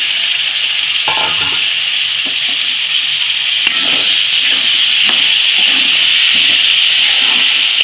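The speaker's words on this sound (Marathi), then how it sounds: "हे भाजताना जरा हाच गॅसवरच हलवून हलवून भाजायचं." Peas and soya chunks being stirred and dry-roasted in a pan over a gas flame, giving a steady sizzle with repeated scraping strokes throughout and one sharp knock near the middle.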